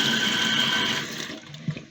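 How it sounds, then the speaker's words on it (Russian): Water gushes steadily from a newly installed kitchen faucet, a close, even hiss of running flow that tapers off as the tap is closed, followed by a faint clink. "Вот такой кран мне этот раз поставили. Вот так горячая вода"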